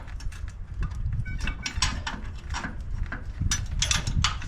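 A bolt is worked out of a Mitsubishi Pajero upper control arm during a bush replacement, making a string of close metallic scrapes, clicks and knocks that come in irregular bursts, fairly quiet, with no talking.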